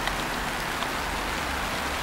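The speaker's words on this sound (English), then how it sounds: "as you can hear, the rain is coming down" Steady rain falls outdoors in a garden among gooseberry bushes, a dense, even hiss of drops lasting throughout with no voices over it.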